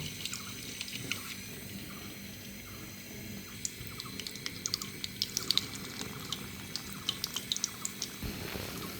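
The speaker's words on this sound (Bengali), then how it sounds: "এখন আমরা ছোট ছোট করে এইভাবে ডুবা তেলে ভেজে নেব।" Small portions of onion pakora batter deep fry in oil, giving a steady close crackling hiss sprinkled with sharp little pops that grow busier midway, with no talking.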